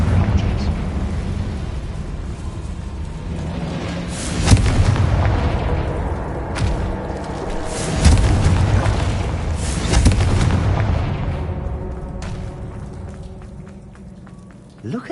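A Confringo blast spell in a video game, with heavy booming explosion bursts and a rumbling, crackling tail, while a voice speaks over the din.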